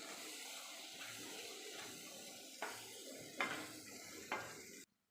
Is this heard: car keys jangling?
no